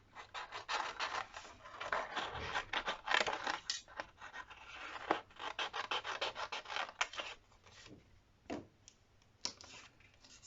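Scissors cut roughly around a sticker in quick, quiet snips and rustles, an uneven run of close crisp cuts with short pauses and no speech.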